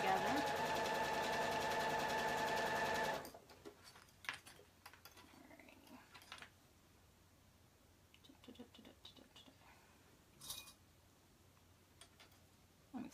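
A home sewing machine stitches a cardigan hood along its seam in a steady, fast whir of needle strokes for about three seconds, followed by quieter handling clicks and rustles.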